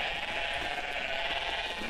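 A person imitates a goat's bleat with a long, steady, nasal bah that fills the whole two seconds at close range, with no other sound.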